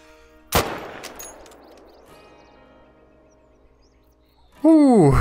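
A single sharp, loud rifle shot in the hunting game Call of the Wild, fired at an animal, trails off into a long fading echo; near the end a voice exclaims.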